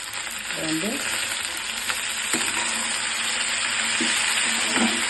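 Okra stir-fry sizzling steadily in a pan while salt is mixed through, a continuous close frying hiss with soft scraping stirs and occasional light knocks, no voices.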